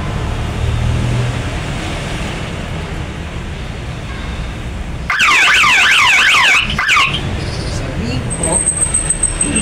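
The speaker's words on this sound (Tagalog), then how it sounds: "kung may intruders na pumasok, pwede na mag-trigger yung alarm" An electric fence intruder alarm at a condominium sounds close and loud as a rapid warbling siren for about a second and a half, cutting through steady background hum, then stops.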